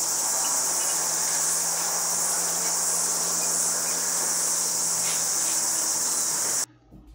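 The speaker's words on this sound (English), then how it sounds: "orchestra of cicadas going on in the background" Loud, steady chorus of cicadas outdoors in a New Zealand summer, a dense continuous shrill buzz with no pauses, cutting off abruptly near the end.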